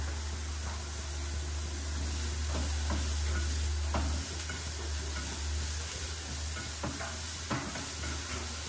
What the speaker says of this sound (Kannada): ಈರುಳ್ಳಿನ ಎಲ್ಲಿವರೆಗೂ ಉರಿಬೇಕು ಅಂತಂದರೆ ಅದು ಗೋಲ್ಡನ್ ಬ್ರೌನ್ ಆಗೋವರೆಗೂ ಉರಿಬೇಕು